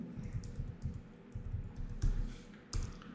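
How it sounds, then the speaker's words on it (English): Typing on a computer keyboard while entering a software command, a quiet steady run of close, light key clicks with a few heavier taps, no voice. "Now, if I type reset,"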